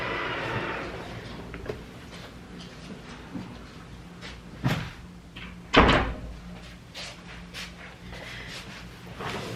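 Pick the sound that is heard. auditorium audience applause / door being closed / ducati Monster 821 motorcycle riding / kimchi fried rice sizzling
door being closed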